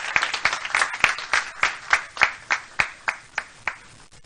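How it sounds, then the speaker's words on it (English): Audience at a political press conference applauds, a steady run of distinct claps fairly near and moderately quiet, with no talk over it. "A round of applause for her."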